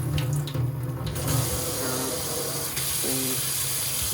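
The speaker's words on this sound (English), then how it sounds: "so it's shower, you get a stream" Water from a filtered shower head runs in a steady hissing stream inside an apartment bathroom, continuous and fairly close throughout, with faint tonal clinks under the flow.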